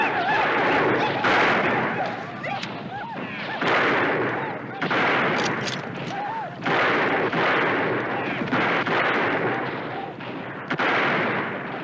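Rifle shots ring out in a western gunfight, a dense run of loud, sharp cracks and booms coming in quick irregular bursts, mixed with shouting voices.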